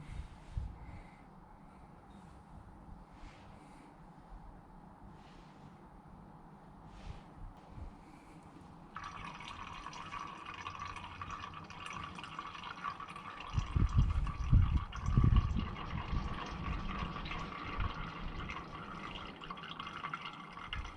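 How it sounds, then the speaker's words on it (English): Clutch fluid trickling out of a bleed nipple while bleeding the clutch of a Triumph TR7, a steady quiet liquid flow and drip that swells louder in the second half with a few low knocks, no talking. "Here comes the fluid, nice and slowly."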